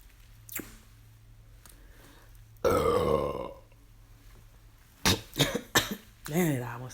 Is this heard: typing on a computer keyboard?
no